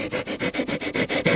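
Rhythmic back-and-forth scraping from a Perma-Grit abrasive tool sanding a motorcycle fairing, about seven even strokes close up and fairly loud, with no voices.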